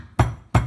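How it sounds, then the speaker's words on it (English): Abalone meat being struck with a steak hammer on a kitchen surface to tenderise it, two sharp, close, solid thuds in quick succession. "Always a good way to do this is when you get your abalone is to tenderise them"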